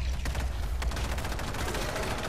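Dense gunfire in the zombie shooter World War Z, with a steady stream of rapid shots and a few sharper bursts over low rumbling background noise, continuous for the whole moment.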